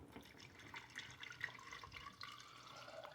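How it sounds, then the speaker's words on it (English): Water pours from a bottle into a jar holding copper ore, a steady trickling, splashing flow with a few brighter drips, close by and fairly quiet, with no talk over it. "good old bottle of water. And this we're going to pour right into the jar with the ore."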